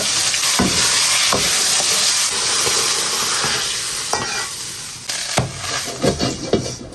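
Rice and egg stir-fried in a wok with oil, scallion, ginger and garlic, a steady loud sizzle with sharp spatula scrapes and clanks at irregular intervals, growing choppier toward the end.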